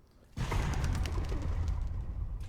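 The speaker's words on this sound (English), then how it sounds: "I love the bird scares" A sudden bird scare in the game Observer System Redux: silence breaks into a loud burst of flapping and cooing from pigeons that carries on as a dense, near flutter with no talking.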